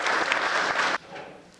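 An audience bursts into applause at a poetry recital, a dense burst of clapping that cuts off sharply, leaving a quieter patter of a few claps.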